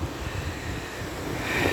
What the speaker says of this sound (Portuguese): o vento está bem forte